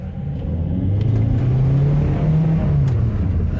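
A VW Caddy van on a test drive after a boost hose connector repair hums along with a steady, close engine rumble that rises in pitch mid-clip as it accelerates, then settles.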